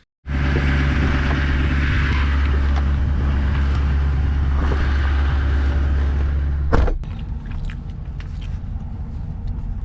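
A pickup truck engine runs loud and steady at a close idle for several seconds, then a sharp clunk marks a change and quieter rattles follow.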